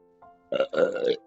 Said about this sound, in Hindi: ये देखो डकार भी आई है